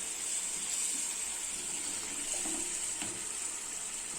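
Water is poured into chicken gravy during home cooking, making a steady, continuous close rush that holds level from start to finish, without any talking.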